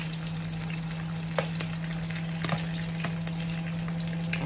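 Steady frying sizzle from a pan with a low constant hum underneath and a few sharp pops and crackles scattered throughout.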